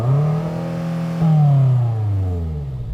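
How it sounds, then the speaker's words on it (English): A BMW M8 engine revs loudly up close, climbing sharply to a sustained roar, briefly holding, then dropping back toward idle over three seconds, with no voices over it. "Let's have some revs."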